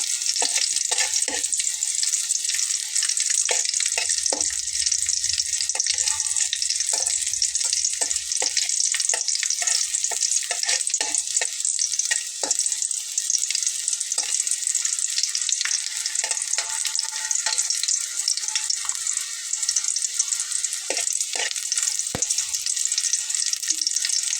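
Chillies fry in a pan for tomato bharta, a dense, steady hissing sizzle running throughout with scattered light clinks and stirring sounds close by.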